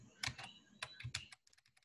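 Quick bursts of clicky keystrokes on a computer keyboard, heard close and fairly quiet, with a few short pauses and a lighter patter of keys at the end.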